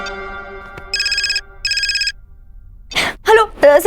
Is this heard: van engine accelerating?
no